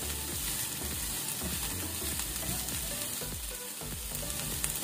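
Chicken spring roll filling fries with dry spices in a hot pan, a steady loud sizzle with scraping stirs mixed in throughout, no voices.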